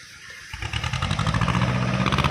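A Kubota two-cylinder farm tractor engine catches and settles into a loud, steady, throbbing run close by, the rhythmic chug building in the first half second and then holding even.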